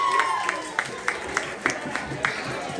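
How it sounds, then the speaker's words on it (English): A small audience at a stage event claps for a radio station's live broadcast. The spaced, fairly faint claps patter under a steady background hum and some distant voices. "Let's give him a big round of applause."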